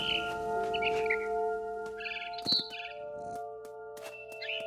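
A bird chirps in the video game What Remains of Edith Finch, with short, fairly faint tweets scattered over a steady ambient musical drone.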